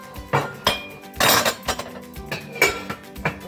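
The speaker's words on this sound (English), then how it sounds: "So give that a stir." Swiss chard and greens cooking down in a pot, stirred with a utensil that knocks and scrapes against the pot in a series of irregular clinks and clatters, close and alone.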